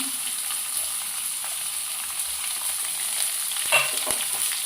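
Cashews, onions and green chilies sizzle and fry in a pan for semiya upma, a steady bright hiss with a few small pops and stirring scrapes near the end.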